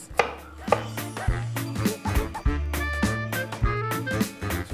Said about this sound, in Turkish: Şimdi bunları ufak ufak doğrayacağım